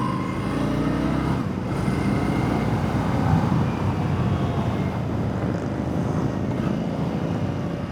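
A 2025 Indian Scout 60 motorcycle accelerates, its engine droning steadily with rising and falling revs and a shift near the start, heard from the rider's position over wind rush.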